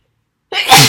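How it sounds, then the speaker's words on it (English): A single sudden human sneeze after half a second of silence, loud and close, bursting out sharply and tailing off. "I have to sneeze."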